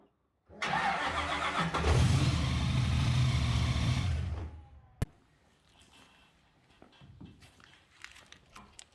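A 598 cubic-inch big block Ford engine in an XA Falcon fires up with a loud, thick roar that holds for several seconds, then cuts off abruptly, leaving faint rustling and distant background noise.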